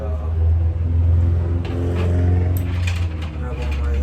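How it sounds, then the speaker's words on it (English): Street traffic rumbles outside an apartment window, a low steady engine drone with passing vehicles, heard under a person talking nearby. "I'm sorry if you hear a lot of traffic and stuff back there."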